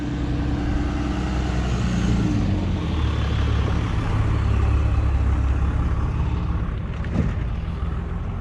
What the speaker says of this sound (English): Let me wait till these trucks pass so I can talk.